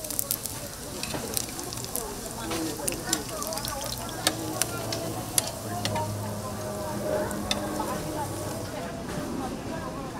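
Steady sizzling of fish cakes frying in hot oil at a market stall in Bupyeong Market, with occasional pops and crackles and some background clatter throughout.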